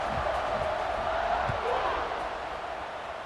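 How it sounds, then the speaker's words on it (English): A stadium crowd in the College Football 26 video game keeps up a steady, distant buzz of cheering and murmur after a score, broad and even with no single voice standing out. "this crowd is buzzing after that last score"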